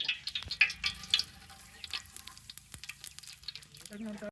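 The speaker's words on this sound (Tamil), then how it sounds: "நூத்தம்பது எம்எல் எண்ணெய் ஊற்றிக்கலாம் தேவையான அளவு சோம்பு" Fennel seeds and oil sizzling in a large pot for village-style Chettinad chicken, a quiet crackling fry with scattered pops and a few clinks, a bit louder near the end.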